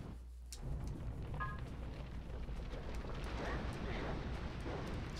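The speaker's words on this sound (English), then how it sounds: "He's gonna shoot a fireball right away every time?" In Spyro: A Hero's Tail, an enemy shoots a fireball with a rumbling, fiery whoosh that swells after a brief pause and sustains at a moderate level.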